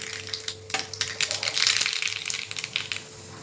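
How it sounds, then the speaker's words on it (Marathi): Mustard seeds dropped into hot oil crackle and pop in a dense scatter of sharp ticks over a faint steady hum, rising and then tapering off, heard close. "इथे तेल गरम झालंय मोहरी टाकूया"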